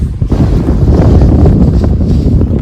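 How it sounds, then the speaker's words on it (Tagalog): Strong gusting wind roars and buffets the microphone, a loud continuous rush with no voices. "Pakinig nyo po ang lakas ng hangin."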